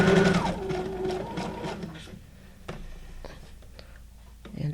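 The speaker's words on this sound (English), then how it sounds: "I can have the sewing machine a bit closer to me" Sewing machine stitching up close for the first two seconds or so in a craft workspace, a steady mechanical whir with rhythmic pulses that then stops, leaving quieter handling noises.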